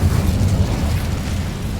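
Incendio fire spell cast in the Hogwarts Legacy video game, a dense low rumbling burst of flame that holds steady for about two seconds at close, full volume.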